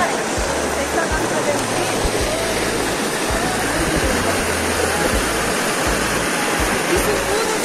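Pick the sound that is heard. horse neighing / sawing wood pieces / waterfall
waterfall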